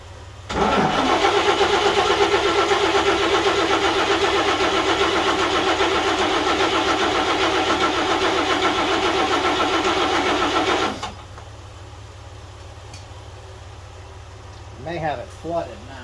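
A 1941 GMC truck engine cranking over steadily for about ten seconds as it tries to start, loud and close, then cutting off to quiet with brief faint sounds near the end.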